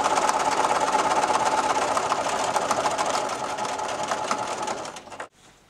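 Sewing machine stitching a fabric protective face mask, a steady, close motor whir with a fast needle clatter that runs evenly and then stops abruptly.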